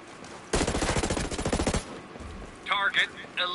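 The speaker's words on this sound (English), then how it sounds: "Hostiles are firing." Gunfire in the video game Ghost Recon Breakpoint: a rapid automatic burst lasting over a second, followed by a few sharper, higher shots in quick succession.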